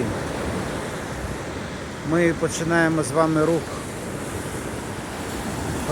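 Sea waves washing onto the shore make a steady, close, broadband surf rush throughout, with a voice speaking briefly over it in the middle.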